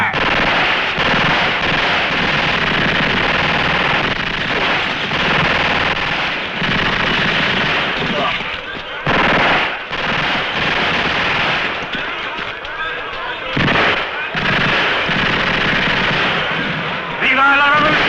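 Machine gun fire in a western film battle, long loud continuous bursts of rapid shots with brief pauses, mixed with shouting voices.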